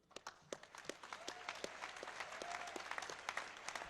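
Audience applause at a DEF CON 13 hacking conference award ceremony for the second-place Capture the Flag team, a crowd of hands clapping that starts sparse and quickly swells into steady, dense clapping, moderately distant.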